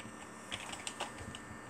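Quiet, rapid clicking of keys as someone types a message into Roblox chat on a computer keyboard during a brief burst.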